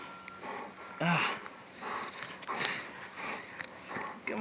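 A dog sniffs in short, quick bursts of air close to the microphone out in snowy weather, mixed with light movement noise and faint background sounds.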